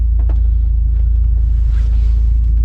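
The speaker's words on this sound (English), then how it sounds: "Rolling in the 6-speed RS." Steady low engine rumble from the 6-speed Losi 8IGHT RS truggy rolling along a city road, a continuous near drone with faint wind noise over it and no voices.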